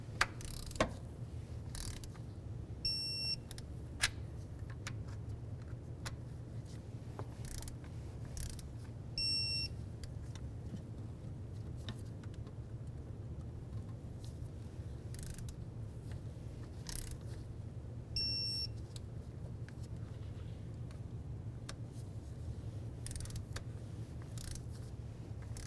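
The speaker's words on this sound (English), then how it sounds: "Now let's go ahead and torque these to 105 inch-pounds as well." Valve cover bolts on a 2002-2007 Jeep Liberty being torqued to 105 inch-pounds with a torque wrench: faint, repeated ratcheting clicks over a steady low hum, with a few brief electronic beeps in the background and no talking.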